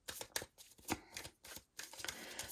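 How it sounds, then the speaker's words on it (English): Tarot cards are shuffled quickly by hand, producing a series of soft, close riffling bursts in an uneven rhythm, quiet and with no talking. "I'll just give them a quick shuffle."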